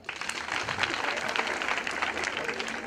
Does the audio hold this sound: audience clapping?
yes